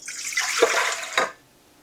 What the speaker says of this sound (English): 2 cups of water that I've microwaved for 30 seconds